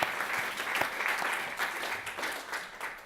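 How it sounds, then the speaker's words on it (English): Audience applause at a welcome session greets a guest, steady and fairly faint from a moderate distance, with a few louder individual claps standing out in the mix. "give a round of applause"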